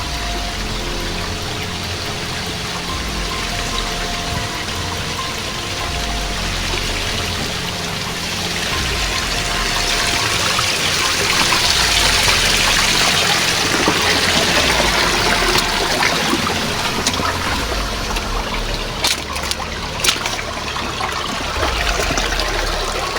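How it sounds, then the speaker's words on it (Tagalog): Water from a river stream flows steadily at close range, a broad continuous wash of trickling and rushing that swells slightly midway, with no talking. "agos ng tubig ngayon dito mga idol"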